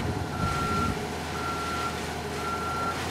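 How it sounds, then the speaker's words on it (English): A fuel truck in the Ghost Recon Wildlands video game rumbles steadily along a road, with a repeating electronic beep pulsing three times over the low engine drone. "I see a fuel truck rolling down the road."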